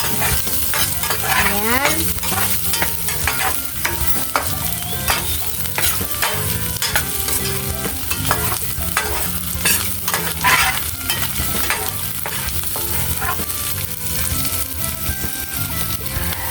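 Onions sizzle loudly in a hot cooking pan for a home-cooked dinner dish, with steady frying crackle and a spoon scraping and stirring throughout; a voice speaks only briefly once.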